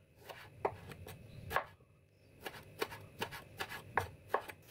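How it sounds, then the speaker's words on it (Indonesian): A knife slices small tomatoes on a cutting board, with a series of crisp, distinct chops landing in an uneven rhythm. The cuts are close but quiet, with short gaps between them. "Kemudian dibelah dan diiris-iris seperti ini"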